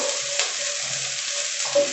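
Chopped green chilies fry in a pan as garlic chicken is prepared, giving a steady soft sizzle with a few brief stirring scrapes, close and alone with no talk.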